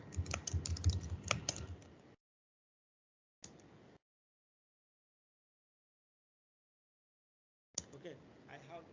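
Bursts of typing as a new user's password is entered on a computer keyboard, with quick clustered keystrokes at the start, a short burst midway and more at the end, separated by silent gaps.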